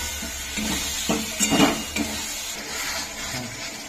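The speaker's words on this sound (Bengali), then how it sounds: "মশলাগুলো ভালো করে কষে নিচ্ছে।" Spices for a mutton curry fry in a pan while being stirred. A soft sizzle runs underneath, and a few close clinks of a utensil scraping the pan cluster around the middle.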